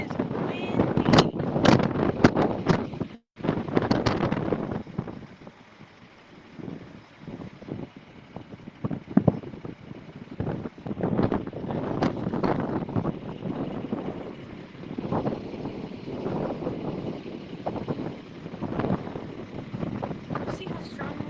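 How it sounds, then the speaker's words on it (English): Strong wind gusting across open hillside near a wildfire, buffeting the microphone in bursts while people talk over it. "See how strong the wind's pushing through here?"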